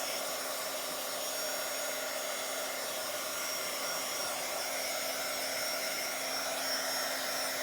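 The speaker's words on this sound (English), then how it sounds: "this is as far as my heating tool stretches because I have a plug way in the corner" A heat embossing tool blows hot air in a continuous, even whir with a steady hum, close and unchanging throughout, with no talk.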